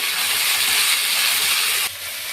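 Ginger garlic paste, mint and coriander fry with tomato in a pan for home-style paneer biryani, giving a steady, close, hissing sizzle that eases slightly toward the end.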